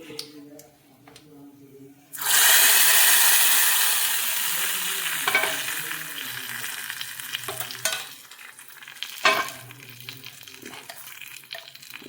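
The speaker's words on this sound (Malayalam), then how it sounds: "കടുക് വറുത്തു ഇനി നമുക്ക് ഇത് ഇതിലേക്കൊന്ന് ഒഴിച്ചു കൊടുക്കാം" A loud burst of sizzling as a hot mustard-seed tempering in oil is poured into a ginger curry, hissing strongly then settling into a steady crackling fry with faint stirring clinks.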